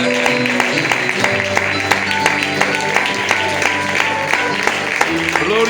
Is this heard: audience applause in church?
yes